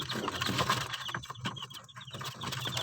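Week-old chicks chirp in quick, high-pitched peeps, fairly faint against a steady background hum.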